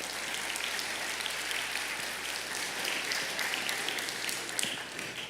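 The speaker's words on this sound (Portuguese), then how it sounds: "Uma salva de palmas para eles" A church congregation applauds during a religious study meeting, with steady, dense clapping that carries evenly throughout at moderate loudness and no voices standing out above it.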